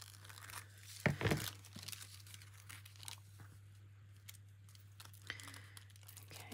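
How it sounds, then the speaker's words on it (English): Paper for a collage tears in one sharp, close rip, followed by faint crinkling and small rustles in an otherwise quiet room. "let me tear a little bit off here."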